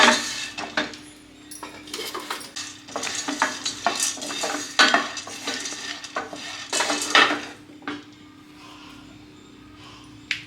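Fried gram (pottukadalai) dry-roasted in a pan for halwa, with a spoon scraping and clinking against the metal in uneven bursts of stirring, fairly close and alone with no voices.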